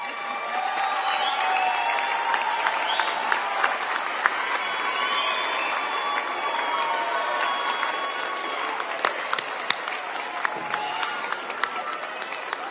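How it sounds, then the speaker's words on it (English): At a College of Design commencement ceremony, a large audience applauds graduates in a long, steady wave of clapping, with scattered cheers and whistles rising above the crowd. "turn and give your family and friends a round of applause."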